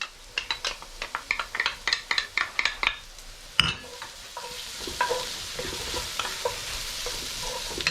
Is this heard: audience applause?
no